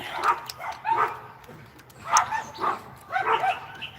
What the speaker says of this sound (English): And pardon the doggies. Well, so while they're barking